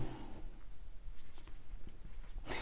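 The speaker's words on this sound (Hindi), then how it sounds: "अभी इसी के सीध में लिखते जाना है" A pen scratches across paper while a leave application is handwritten, soft, close strokes coming in short irregular bursts with no talk.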